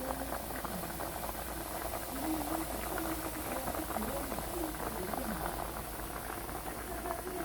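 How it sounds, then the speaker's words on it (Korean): Thick nurungji (scorched rice porridge) bubbling and popping steadily in a pot, a close, continuous blipping simmer with soft muffled plops throughout. "끓는 소리 나죠?"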